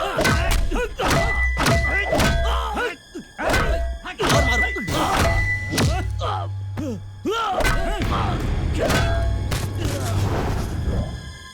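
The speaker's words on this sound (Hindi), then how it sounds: "इसे जगह जगह कर मारो।" Punches and blows in a fight scene from a Hindi-dubbed action movie, a rapid series of loud, close thuds and whacks over booming low rumbles, with occasional shouting voices.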